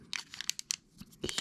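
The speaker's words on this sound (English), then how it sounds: "I'm going to need to put just a little bead of tape around the base" Tape handled around the base of a TS-1 Mark 2 tube microphone gives close, quiet crinkling and sticky tearing crackles in short irregular bursts.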